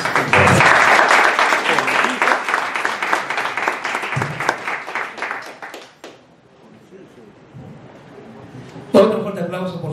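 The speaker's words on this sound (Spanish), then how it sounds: "Otro fuerte aplauso, por favor, a nuestros ponentes." Audience applause at an academic law conference, dense and sustained for several seconds, then thinning out and fading, followed by a voice speaking into a microphone.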